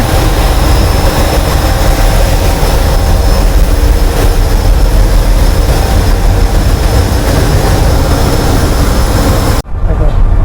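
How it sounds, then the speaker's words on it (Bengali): A loud, constant mechanical roar of a passenger ship's engine room in the Andaman Islands fills the space, a dense droning rumble that cuts out abruptly near the end. "এখানটাতে ইঞ্জিন রুম রয়েছে তাই এখানে বিভৎস আওয়াজ হচ্ছে"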